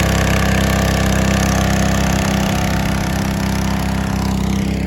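A farm engine runs steadily at a constant idle, a loud continuous droning hum with no voices.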